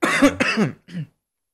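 A man coughs and clears his throat up close, a rough run of throat-clearing followed by a shorter cough, then silence.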